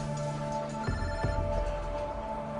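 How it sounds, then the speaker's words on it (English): A telephone rings during a meal, its steady electronic tone holding throughout at moderate level, with a couple of faint clatters behind it and no talking. "During the meal, Moises gets a phone call"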